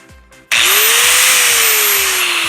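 A corded Bosch GWS17-125 1700 W five-inch angle grinder with soft start switches on after a brief moment of quiet, its loud whine rising gradually to full speed and then holding steady.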